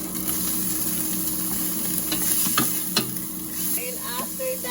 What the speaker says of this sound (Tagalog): painit ng mantika at first ang ating luya